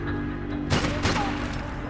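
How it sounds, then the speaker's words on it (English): Gunfire in the video game Max Payne 3: two quick bursts of shots over a steady background hum, close and moderately loud. "I'm shooting them with bullets"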